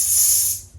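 Perfume sprayed from a bottle, a single bright hissing burst lasting under a second, close and fairly loud before trailing off.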